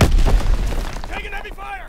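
A grenade blast in the Call of Duty WW2 video game hits loud and low at the start, its boom rolling into game noise, followed by short tonal game voice callouts.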